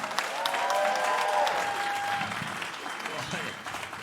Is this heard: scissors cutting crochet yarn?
no